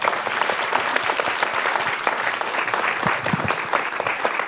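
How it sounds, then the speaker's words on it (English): A room full of people at a panel event gives a round of applause, dense and steady clapping that lasts throughout at moderate loudness with no voices over it. "Round of applause."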